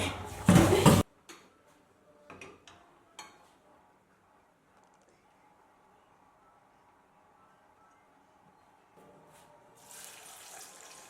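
A kitchen tap gushes loudly for about a second as deboned fish is rinsed before it goes into a fish stew. Scattered clinks and handling noises follow, then water swells again near the end.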